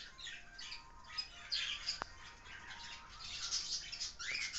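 Several birds chirp and squawk nearby in short, irregular bursts of high tweets over a quiet background.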